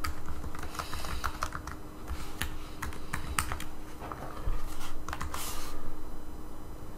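Typing on a computer keyboard, a close series of quick, uneven clicks and key taps arriving in short bursts over a low steady background hum.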